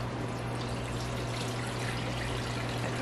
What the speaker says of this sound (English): we're going to just pour it and let it strain.